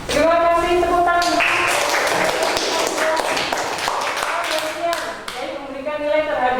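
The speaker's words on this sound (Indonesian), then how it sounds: "Terima kasih, tepuk tangan" Classroom applause during a short-story assessment session, a burst of quick, close hand claps over a few seconds, with a voice speaking before and after.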